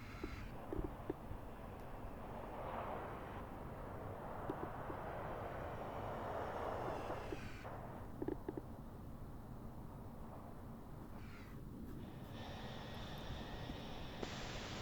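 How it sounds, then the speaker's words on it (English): Two C-130 Hercules aircraft pass overhead in a flight simulator game, a steady low turboprop drone that swells and fades over several seconds, faint with occasional clicks. "Next, 2 Hercs passing overhead."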